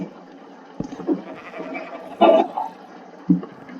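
A Minecraft sheep bleats in a few short, separate cries, with a watery rush from the game in the background and no talk.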